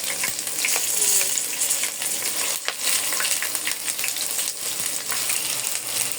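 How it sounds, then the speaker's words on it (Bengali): Onion paste frying in hot oil for a chicken roast pulao, a steady dense sizzle and crackle that holds loud and close throughout, with faint stirring clinks. "আমি পেঁয়াজ বাটাটা দিয়ে দিই।"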